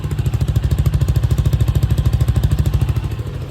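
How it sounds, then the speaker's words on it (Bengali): A CFMOTO 300NK motorcycle idles with a steady, rapid exhaust putter, loud and close, its even pulsing continuing throughout without voices. "আপনারা হচ্ছে এক্সস্ট সাউন্ডটা এখন শুনতে পাচ্ছেন"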